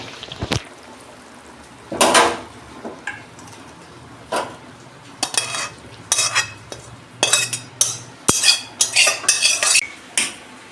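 A ridge gourd, potato and lentil-dumpling curry is poured out of a cooking pot, with metal spoon clinks and scrapes against the pot coming in irregular, close bursts that grow busier toward the end, with no talking.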